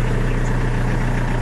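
Engine running at a steady idle, a loud continuous low hum and rumble, close and uninterrupted over a brief moment with no talk.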